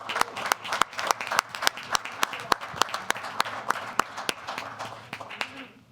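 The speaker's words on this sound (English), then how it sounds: "I think another round of applause." Audience at a village board meeting applauding a high school madrigal choir, a modest scattering of distinct, sharp hand claps at an irregular, moderately quick rhythm in a quiet room.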